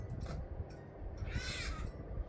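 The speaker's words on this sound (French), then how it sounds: "Perroquet." A parrot calling with a few harsh, raspy squawks in a room, one longer strident call standing out amid low background noise.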